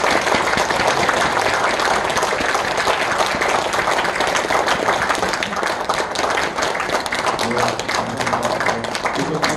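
An audience in a small National Assembly meeting room in Korea applauds the families of anti-collaborator committee members, with steady, dense clapping throughout and some voices under it near the end.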